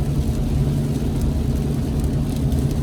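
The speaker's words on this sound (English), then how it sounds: "Too much rain." Heavy rain falls steadily in Kuwait, making a dense, continuous wash of noise with a low rumble beneath it. Nobody speaks over it.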